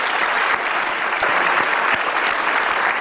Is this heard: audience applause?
yes